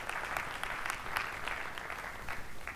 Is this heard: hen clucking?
no